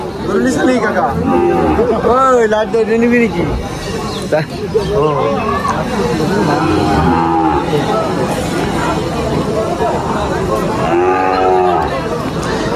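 Cattle lowing at a crowded cattle market, several loud drawn-out moos rising over a steady hubbub of voices and chatter, with traders talking nearby throughout.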